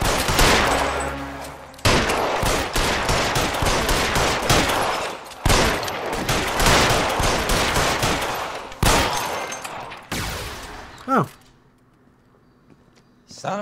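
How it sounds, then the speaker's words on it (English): Sustained bursts of rapid gunfire in the video game L.A. Noire, loud, dense volleys broken by short pauses before dropping to near silence with a final shot. "I'm just shooting out the letters right now"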